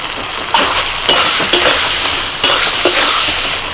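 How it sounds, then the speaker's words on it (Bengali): Spice paste frying with chopped tomato and a little water in a pan for khichuri, a loud continuous sizzle broken by repeated scraping and clinking stirs of a utensil against the pot, close up and without talk. "অল্প জল দিয়ে মশলাটা কষাবো একটু টমেটো কুচি দিয়ে দিচ্ছি মশলার মধ্যে"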